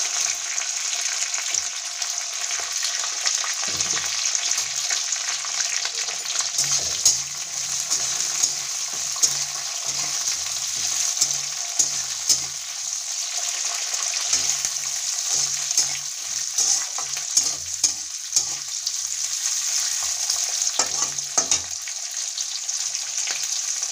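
Chopped onion fries in a pan for sambar, giving a steady, close, bright sizzle that runs throughout with occasional soft stirring knocks and scrapes, and no voices.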